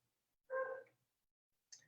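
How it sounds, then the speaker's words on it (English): A single faint, short dog bark sounds at a distance, followed after a pause by a brief high click. "And that's Brisket the dog barking."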